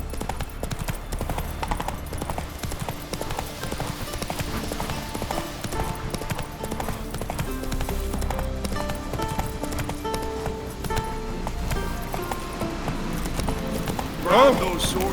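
Geralt's horse Roach galloping in The Witcher 3: Wild Hunt, a steady rapid drumming of hooves under game music and ambience, a brief whinny near the end.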